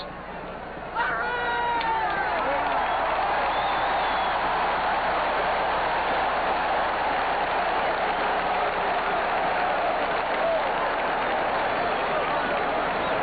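A packed football stadium crowd at a 1978 Oakland Raiders–Green Bay Packers game, Packers at home, swells into a loud continuous roar of cheering that holds steady, with a broadcast announcer talking briefly at the start.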